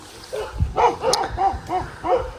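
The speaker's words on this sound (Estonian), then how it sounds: "mingi kären käib kogu aeg siin jauramas" A dog barks repeatedly in a series of five or six mid-pitched barks at a steady rhythm, fairly close and loud, outdoors near a rural forest road in Finland.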